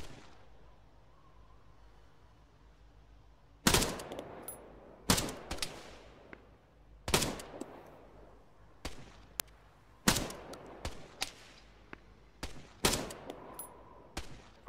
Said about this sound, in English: I'm kind of shooting over your head, so heads up.